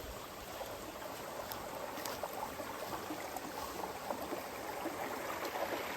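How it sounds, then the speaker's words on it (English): Water trickles and burbles continuously in a small stream, soft and close, with no voices. "Got a really great flow of water."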